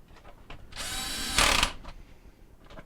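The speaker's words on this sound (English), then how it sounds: "we'll change bits for the T20 Torx bits to secure that cover, and tighten all 4 screws" A power driver spins a T20 Torx screw down on a Whirlpool dishwasher cover in one close, steady whir of about a second, sharpening into a louder buzz as it seats. Faint clicks come before and after it.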